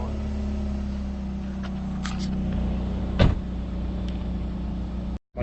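Idle of a 2011 Subaru STI engine that has just been started, a steady low hum throughout with a brief knock partway through and a cut near the end.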